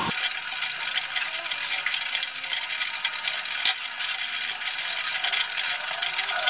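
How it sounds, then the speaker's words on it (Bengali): Chopped banana stem stir-fries over a high gas flame, a bright, crackling sizzle broken by quick scraping clicks of stirring, close and steady throughout. "গ্যাসের ফ্লেমটা জোরে দিয়ে আমি থোরটাকে একটু ভাজা করে নিয়েছি।"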